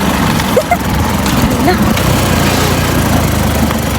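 A motorcycle engine drones steadily throughout, loud and close, with a few voices heard faintly under the running motor.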